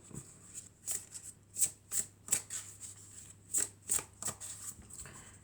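Tarot cards shuffled by hand close to the microphone, a run of about a dozen crisp riffling bursts in an uneven rhythm over a quiet background, without any speech.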